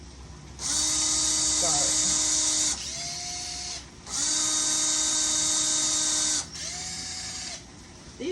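A power drill with a Phillips bit whirs in two long loud bursts, each easing into a lower, slower spin, as it loosens screws on hurricane shutters. A brief spoken word comes in between.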